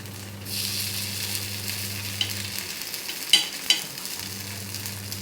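Paniyaram frying in oil in a nonstick pan, a steady sizzle throughout with a low hum that cuts out midway and a few sharp spatters or pops near the end.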